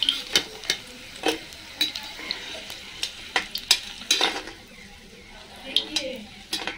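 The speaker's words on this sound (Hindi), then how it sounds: "भिंडी का बहुत अच्छे से फ्राई कर लिया इसको तेल से छान लेती हूँ बाहर" Okra frying in oil in a pan, a soft sizzle punctuated by a dozen sharp, irregular clinks of a utensil against the pan.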